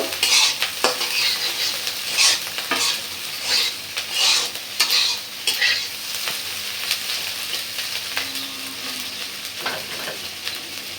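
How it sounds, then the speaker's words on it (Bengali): Fish roe fries in oil in a pan with a steady, continuous hiss, punctuated by regular scraping strokes of a spoon stirring the food. "তেলের উপরে ভালো করে ভাজা নিব"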